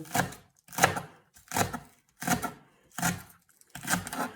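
Onion being chopped finely with a knife on a board for a Greek grill sauce, six steady bursts of chopping strokes in a regular rhythm, close and clear with no talk.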